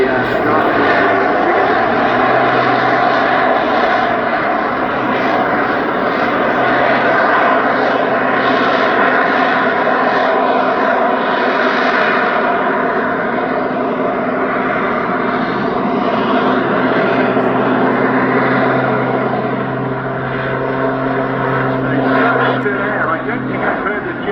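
An aerobatic aircraft at a seaside air show in Bournemouth drones loudly and steadily with a sustained engine roar throughout, slowly shifting in pitch as it manoeuvres, while a commentator talks over it.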